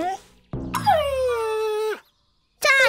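A cartoon dog whimpers, then lets out a long high, wavering whine, followed by a short bright yelp at the end, loud and close, with brief silences between.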